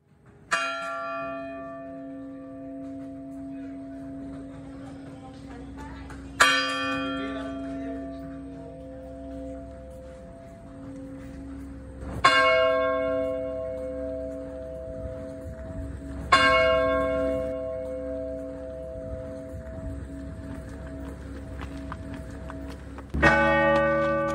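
A bell in a Zen meditation hall is struck five times, roughly every five to six seconds. Each strike rings out clearly and decays slowly into a long, sustained hum, with no talking.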